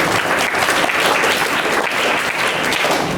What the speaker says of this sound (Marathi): त्यांच्या अपेक्षा अपेक्षेप्रमाणे त्यांनी टाळ्या वाजवल्या